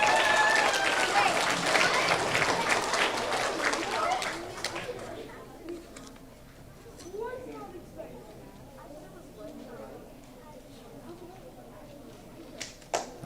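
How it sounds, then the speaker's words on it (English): Applause for third grade award winners at a school awards ceremony, with a burst of clapping at the start that fades after a few seconds into quieter room noise, shuffling and murmuring voices. "how about another round of applause for our top AR students"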